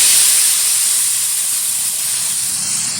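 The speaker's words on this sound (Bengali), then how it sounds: "দিয়ে দিচ্ছি এতে পরিমাণ মতো জল" Water poured into a pan of fried spice paste for a tomato sea-fish curry sets off a loud, steady steaming hiss that slowly eases over a few seconds.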